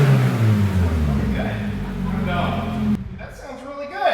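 A 2022 Subaru BRZ with a custom exhaust and muffler revs, its low, throaty engine note rising and falling close by, with people talking over it before the engine cuts off near the end.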